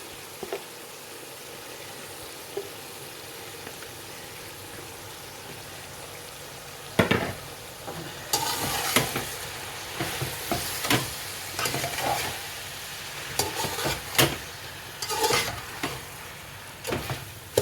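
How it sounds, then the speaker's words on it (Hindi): Shredded cabbage for spaghetti sizzles as it stir-fries over high heat, starting as a quiet steady hiss, then growing louder with the scrape and clatter of a spatula tossing it in the pan. "ये बंद गोभी डाली है और इसको ना तेज़ आंच पे पकाएंगे।"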